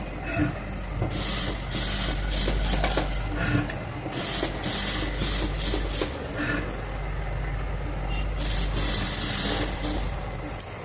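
A sewing machine stitches fabric for an umbrella-style frock with its presser foot, a steady whirring mechanical drone with rhythmic bursts of faster stitching, close and continuous with no speech.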